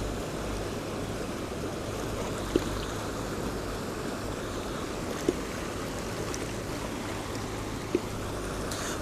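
The glacier-fed Alaknanda river at Karnaprayag in the Uttarakhand Himalayas flows with a steady, even rush of water. It is close and continuous, with a few faint clicks and no voices.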